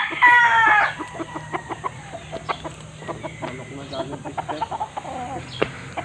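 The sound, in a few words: chickens clucking and rooster crowing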